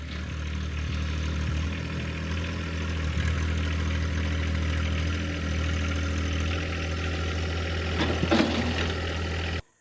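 A John Deere 1025R compact tractor pulls an oak log on a chain, its engine a steady low rumbling drone running throughout at close range, with a brief rattle near the end.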